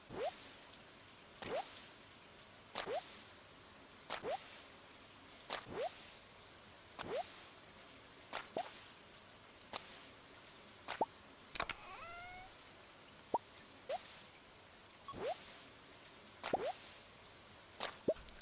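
Repeated fishing-rod casts in Stardew Valley, a dozen or so quick whooshing swishes at a steady rhythm, each ending in a small plop or splash, quiet and without talk.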